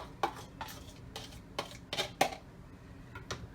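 A spoon stirs a dip mixture with garlic powder in a bowl, giving a series of quiet, evenly spaced clinks and scrapes against the side, close by and faint.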